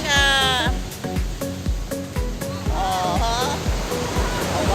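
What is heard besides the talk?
ocean waves at high tide on a beach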